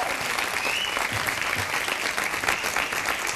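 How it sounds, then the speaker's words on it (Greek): Studio audience applauding the orchestra at a Greek variety show, a dense, steady wash of many hands clapping throughout with no voices over it. "Ένα χειροκρότημα στην ορχήστρα μας."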